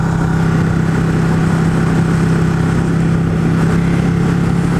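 Ducati 959 Panigale motorcycle (2016) engine running with a loud, steady, close drone and a strong low hum that holds evenly throughout, with no talking.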